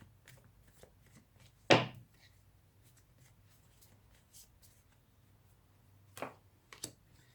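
Tarot cards shuffled by hand during a reading: one loud riffling burst, then a quieter second flurry of shuffling a few seconds later, with soft handling noises in between.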